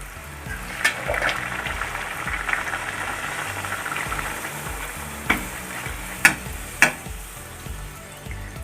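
Puri frying in hot coconut oil gives a steady, loud close sizzle and bubbling throughout, with a few sharp clicks from a utensil knocking the pan.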